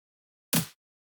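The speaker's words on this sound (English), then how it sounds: "This is the clap." A single clap sample from a drum kit with sample delay applied, one short sharp hit in otherwise silence, dry and quickly decaying.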